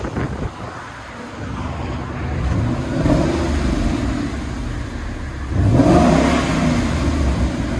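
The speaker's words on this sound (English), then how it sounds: "2012 Ford Mustang GT. This is what it sounds like before." A 2012 Ford Mustang GT with factory exhaust revs up twice, each time a loud, close surge of engine roar swelling and falling, with wind rushing across the microphone throughout.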